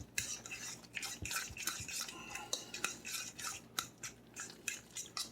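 Quiet, irregular scraping and clinking of a utensil stirring no-mayo egg salad with red pepper flakes in a bowl, short strokes repeating close by with small pauses between them.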